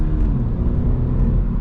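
A 2025 Subaru BRZ tS, an STI-tuned sports coupe, drives along with a steady, smooth engine rumble and road noise, a constant low drone held for its whole length with no voices.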